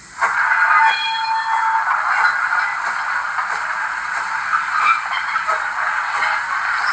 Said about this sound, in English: F15 is the train flange screw